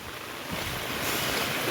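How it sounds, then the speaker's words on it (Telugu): A steady, continuous rush of flowing water, broad and even throughout with no voices. "నీళ్ళు పోతున్నాయి చూడండి ఫ్రెండ్స్"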